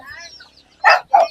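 Chickens clucking in a rural Marinduque village at dusk, around six in the evening, as they settle for the night; two short, loud bursts of fowl calls come up close after faint background sounds.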